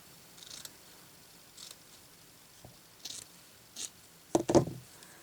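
Scissors snip through a square of felt in a few short, quiet cuts spaced apart, ending in a louder pair of close crunchy snips.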